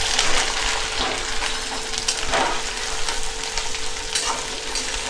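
Onion fries with cumin and mustard seeds in hot oil for an onion chutney, giving a loud, continuous close-up sizzle with crackles and occasional stirring scrapes.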